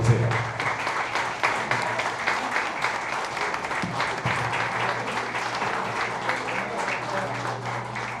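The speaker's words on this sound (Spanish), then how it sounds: "vamos a recibir con un fuerte aplauso" Steady applause from a crowd fills the space, a continuous wash of clapping at moderate loudness with faint voices underneath.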